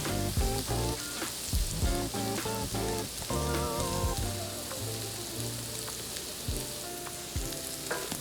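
Potatoes seasoned with salt, black pepper and smoked paprika sauté in a pan, giving a steady close sizzle with brief clinks and stirring scrapes throughout.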